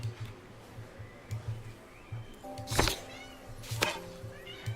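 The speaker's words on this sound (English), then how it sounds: "Sorry if you can hear one of the cats in the background." A domestic cat meows in the background at feeding time during a home repair session. Two short, fairly faint cries stand out over low room noise, alongside some soft knocks and handling sounds.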